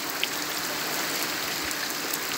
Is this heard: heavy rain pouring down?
yes